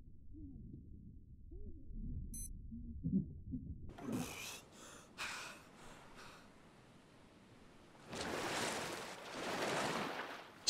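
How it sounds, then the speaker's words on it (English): Water splashes in the survival game Stranded Deep at night: after quiet low rumbling, a few short splashes arrive, then a longer, louder surge of churning water near the end. "Scared myself with a bit of splashing then."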